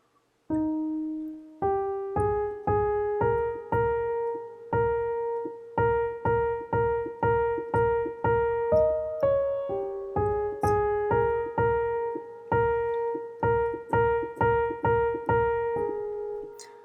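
A piano plays a repeating melody of steady, evenly spaced notes, mostly on one pitch with occasional steps up and down, clear and close with no voices.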